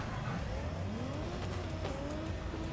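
A 1,000-horsepower Torque Drift BRZ in the game Torque Drift revs hard, its engine pitch climbing and dropping through gear shifts with faint tire squeal, loud and continuous.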